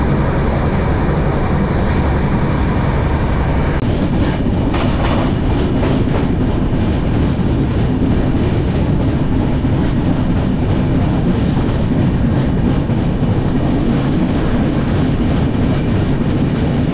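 Darjeeling Mail passenger train rolling steadily on rails, a loud continuous rumble with rhythmic clickety-clack of wheels over track joints, heard up close from on board without a break.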